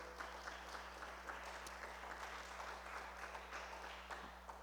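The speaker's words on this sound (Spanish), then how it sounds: "Le damos una ofrenda de palmas al Señor" A church congregation applauding in worship, a steady, fairly faint wash of clapping from many people over a low constant hum.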